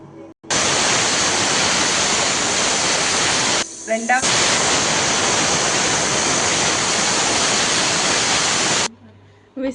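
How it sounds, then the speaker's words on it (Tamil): A pressure cooker on a stove vents steam in a loud, continuous hiss while cooking tomato rice, with a brief dip partway through before the hiss resumes and then cuts off near the end. "ஸ்டீம் வருது, விசில் போட்டுக்கலாம்."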